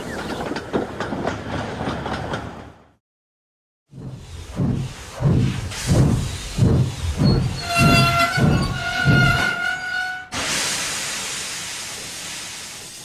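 A steam train rolls along with rhythmic clacking that gradually slows for a station stop, then a sustained horn-like whistle tone sounds, followed by a loud hiss of steam.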